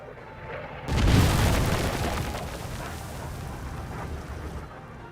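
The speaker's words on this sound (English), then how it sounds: "Incoming airstrike." An airstrike explosion in the turn-based video game Headquarters: Cold War: a sudden deep boom hits, then rumbles and slowly fades into a long noisy tail.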